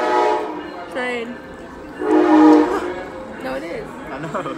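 A train horn sounds nearby at a restaurant dinner table, sustained blasts rising and falling over a few seconds, strongest in the middle, with people talking over it.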